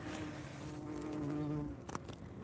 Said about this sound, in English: They are most active in the morning, I've noticed with bees.